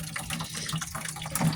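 Running water for watering blueberry plants, a brief, steady splashing gush with a low hum beneath it, close by.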